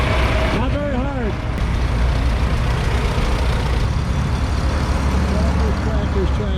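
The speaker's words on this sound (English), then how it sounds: "Tractors everywhere." Heavy engines rumble continuously nearby, several tractors droning together, with a voice calling out briefly over the noise.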